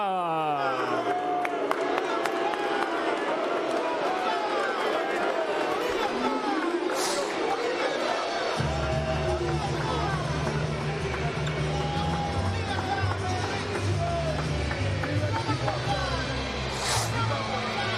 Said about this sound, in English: Drummer boy Molina being serenaded by a chorus of boos from this sold-out crowd here at Bartow Arena in Birmingham